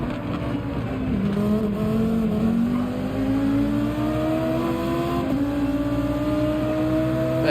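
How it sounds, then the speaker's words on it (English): Volkswagen Beetle race car accelerating in Gran Turismo 7 at Deep Forest Raceway, its engine note climbing steadily through the gears with a brief shift dip, loud and close with no talk. "That Beetle acceleration is incredible."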